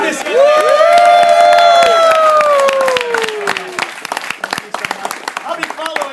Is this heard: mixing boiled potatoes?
no